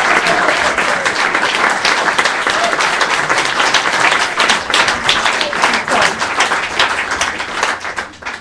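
Sustained, loud applause fills a live jazz album launch party as the crowd claps for a friend in the audience, steady dense clapping for the whole stretch with a few voices underneath.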